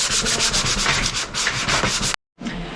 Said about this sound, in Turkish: böyle hafif bir de ince bir zımpara yapmak istiyorum tekrardan